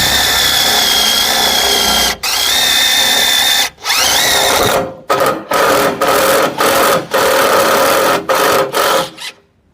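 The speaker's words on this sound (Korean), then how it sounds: "그 두께를 지금 이렇게 금방 순식간에 뚫는 거예요" Heavy drill boring holes through the thick steel of an H-beam, its loud continuous whining grind running nearly the whole time and broken by several brief cutoffs, then a rapid series of short stop-start bursts toward the end.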